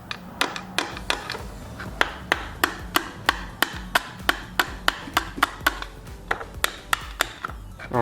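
Sharp metallic taps on a transmission pump repeat in a fairly even rhythm, about two per second, close and crisp against a quiet background.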